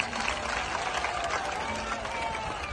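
A crowd at a religious gathering in Vrindavan claps steadily and enthusiastically, a dense wash of hand claps without pause.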